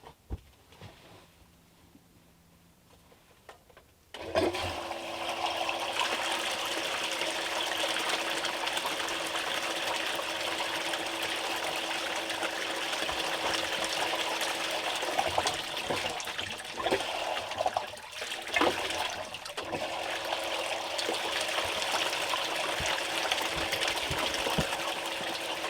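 Water rushes steadily through a Kreeger Hyper gold sluice once it starts up, a loud continuous gushing flow after a few quieter seconds, with no talk.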